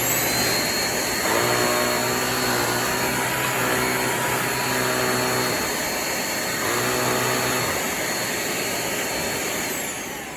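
A Shark Navigator upright vacuum cleaner runs loud and close with a steady whining roar, its pitch shifting slightly as the airflow changes.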